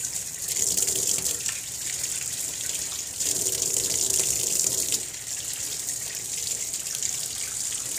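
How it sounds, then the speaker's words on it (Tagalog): Freshly picked blackberries washed under a running faucet, with a steady gush of tap water splashing into a sink and brief shifts in tone as the berries are moved under the stream. "Kailangan hugasan siya mabuti kasi grabe yung alikabok sa labas."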